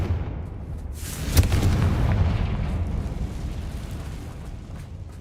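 A Confringo blasting spell explodes in Hogwarts Legacy: a sharp, loud blast followed by a rumbling, crackling tail that slowly fades over several seconds.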